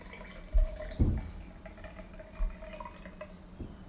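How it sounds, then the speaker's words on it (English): Water is poured into a jar of homemade herb vinaigrette in a kitchen, a few short splashing gurgles close by, with no talking. "I'm going to then top it off with water."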